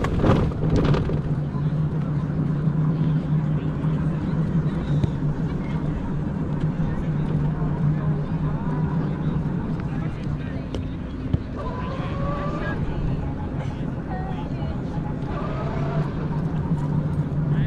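A Citroën C5 drives along on a hot day, its steady low engine drone and road rumble continuous throughout, with wind buffeting and faint rattles, occasional background sounds rising over it.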